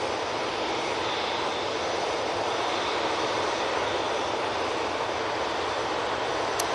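Ryanair jet from Belfast on final approach to Manchester Airport, heard as a steady, moderately loud engine rush that holds even from start to finish with no talking.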